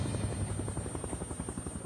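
Helicopters flying over a plane crash site in mountainous terrain produce a steady, rapid rotor chop with a constant high whine, heard at moderate distance with no voices.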